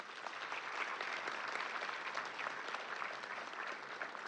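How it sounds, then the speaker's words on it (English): Audience at a high school senior awards ceremony breaking into applause, a continuous even wash of many hands clapping, moderately faint and somewhat distant, without speech. "Please give them a round of applause."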